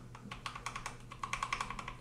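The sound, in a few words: pressing multimedia keys on a Keychron K2 V2 mechanical keyboard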